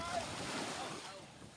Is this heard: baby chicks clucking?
no